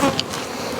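Bees humming steadily at an opened hive with frames of bees and drone brood, a close, continuous buzz.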